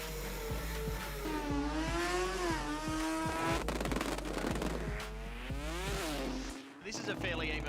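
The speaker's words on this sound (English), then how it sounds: "Ivan Scaramuka leaves with the wheels in the air, carries it out through 2nd and 3rd gear" A Mazda RX3 rotary drag race car launches down the strip with its wheels in the air and revs up through second and third gear, a loud rising engine whine under a commentator's voice.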